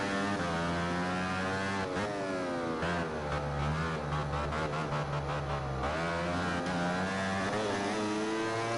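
A Yamaha YZR-M1 motorcycle engine in the video game MotoGP 14 revs and drones continuously, pitch rising and falling as it shifts through gears, loud and close, with no talking.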